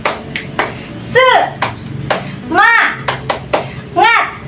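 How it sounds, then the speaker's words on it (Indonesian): Primary school pupils in a fifth-grade class perform the tepuk semangat clapping chant, with sharp rhythmic hand claps alternating with short sung or shouted vocal bursts, up close. "Kita tepuk semangat ya, teman-teman semuanya."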